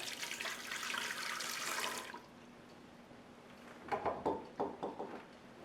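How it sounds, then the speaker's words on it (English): Warm water pours from a tap into a container for hamburger bun dough, a steady splashing stream for about two seconds, followed by a few soft drips and small liquid splashes. "we are going to add the 2 cups of warm water"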